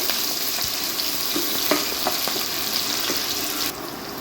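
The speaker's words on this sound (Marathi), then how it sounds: "एक छोटा कांदा आपण जो घेतलेला चिरून तो ॲड करणार आहोत कांदा छान गुलाबी रंगाचा होईपर्यंत शिजवून घ्यायचा आहे" A small chopped onion sizzles in hot fat for an Maharashtrian birdya amti, a steady broadband fry with a few soft stirring clicks, close and continuous, no voices.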